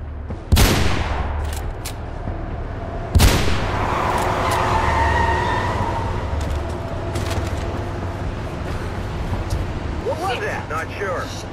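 Two loud, sharp sniper rifle shots crack out in Mirror's Edge, a few seconds apart, over a steady rumble of game ambience and engine-like noise.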